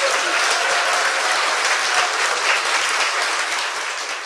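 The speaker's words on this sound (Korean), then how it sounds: "일단 박수 한번 더 주세요" A studio audience applauds steadily, dense and loud, a continuous wash of many hands clapping that fades slightly toward the end, with no voices over it.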